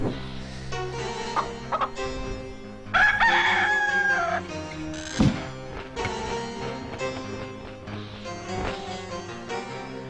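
A rooster crows repeatedly in the Discworld 2 video game, loud and close, with long drawn-out calls over a steady game soundscape and no talking.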